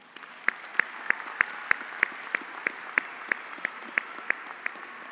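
Audience applause for graduates at a college commencement, a steady patter of clapping with sharp, evenly spaced individual claps standing out close by, moderately loud and continuing throughout.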